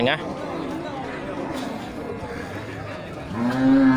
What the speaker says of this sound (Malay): ini sapi betina ya